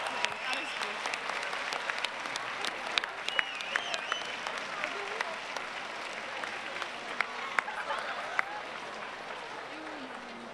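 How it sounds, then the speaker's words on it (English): A comic con panel audience in Dortmund applauds Finn Wolfhard, a sustained, even wash of clapping from a large crowd with scattered sharper claps, fairly distant and steady throughout, with a voice heard faintly beneath it. "ladies and gentlemen, give a big applause for Finn Wolfhard!"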